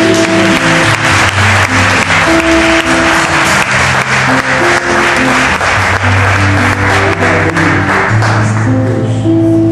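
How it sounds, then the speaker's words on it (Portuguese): A church congregation applauds in steady, dense clapping over sustained keyboard chords, continuing throughout at a fairly loud level. "E aplauda ao Senhor."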